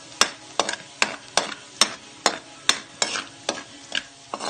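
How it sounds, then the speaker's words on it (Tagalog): Garlic sautéing in hot oil in a pan for pork sisig, sizzling steadily while a spatula scrapes and stirs in sharp, regular strokes about every half second, close and fairly loud with no talking. "Kailangan may brown ang kulay ng bawang sa pag-isa para mabango."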